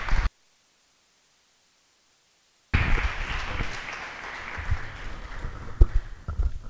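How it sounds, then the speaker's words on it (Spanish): Audience at a lecture course session on political and social movements breaks into applause after a brief silent gap, a moderate, steady clapping that continues to the end with a few sharper individual claps. "Lo recibimos con un aplauso."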